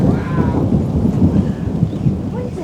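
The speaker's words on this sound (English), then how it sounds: "Woo! Thunder!" Deep thunder rumbles loudly and continuously over a garden plot before rain, a close, rolling low growl that churns without a break.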